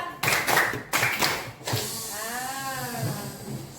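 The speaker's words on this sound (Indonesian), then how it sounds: "Tepuk dua" A group of participants in an Indonesian teacher coaching session claps in unison, sharp collective bursts in quick succession, followed by a lingering tonal hum under faint background sound.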